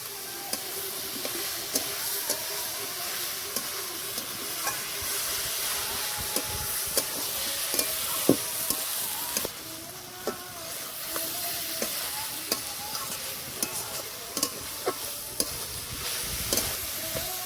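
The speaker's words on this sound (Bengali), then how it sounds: "বন্ধুরা ভেজে রাখা আলুগুলো দিয়ে দেবো" Fried potatoes go into a pan of banana flower curry and get stirred through, a continuous close sizzle broken by repeated light scraping and tapping of a spatula.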